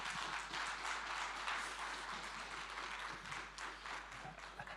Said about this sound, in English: could I have, please, a big round of applause for Antigua's leadership on this issue?